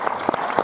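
Applause from a cinema audience at a film premiere, a steady wash of clapping with a few louder bursts standing out, brief and fairly close.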